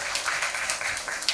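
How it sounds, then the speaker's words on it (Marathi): A crowd claps loudly and continuously at a 75th birthday celebration in Maharashtra, with dense, even applause filling the whole moment and no speech. "शेतात जोरदार टाळ्या वाजवायच्या आहेत"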